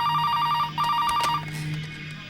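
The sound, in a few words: phone ringing in a film scene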